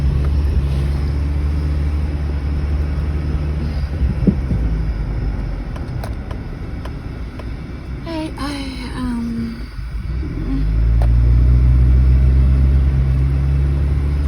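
A car drives around town at a steady pace, with a constant low engine and road rumble inside the cabin, brief soft clicks, and a louder swell of rumble near the end.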